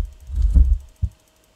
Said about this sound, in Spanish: Y el corazón está en la puerta de ahí, que se escuchan las palpitaciones.